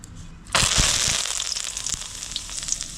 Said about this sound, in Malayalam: അതേ എണ്ണയിലേക്ക് നമുക്ക് കുറച്ച് മീൻ കൂടി വറുത്തെടുക്കാം